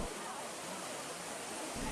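Water splashes steadily in a large Roman fountain fed by an ancient aqueduct and crowned by Oceanus in a shell chariot, making a constant dense rushing wash with no pauses, close and fairly loud throughout.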